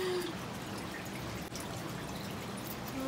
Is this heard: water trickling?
yes